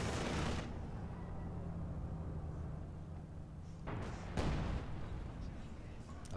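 Gunfire and artillery shots from the World War II strategy game Company of Heroes 2 rumble steadily in the background, with a few sharper bursts standing out near the middle and end of the stretch.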